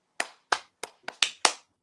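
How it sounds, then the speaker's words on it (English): A single person claps hands six times in a loose, uneven rhythm, each clap sharp, close and fairly quiet, with silence between them. "I'll do my New Day clap"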